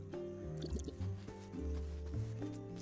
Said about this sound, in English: Let me just fill up my water can real quick.